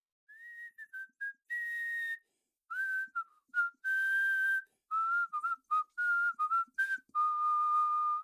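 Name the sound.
eerie whistling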